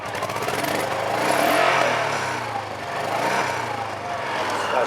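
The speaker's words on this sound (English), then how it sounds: "Somebody as a PC guy can tell me if this exhaust is too loud." A Honda PC-800 motorcycle idles with its engine and exhaust running, a steady, loud, rumbling drone that swells and eases slightly and holds continuous and close throughout.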